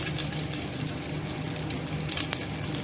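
Garlic cloves sautéing in a pan while roasted gram chutney is cooked, giving a steady, close sizzle and crackle that holds even throughout with no pauses.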